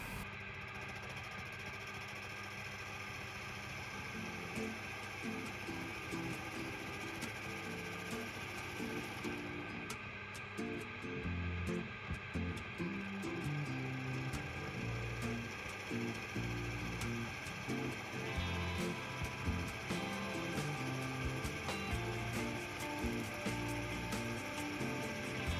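Skew chisel cutting a spinning wood blank on a woodturning lathe, a steady motor hum with rough, fluctuating cutting noise layered over it throughout, close and continuous.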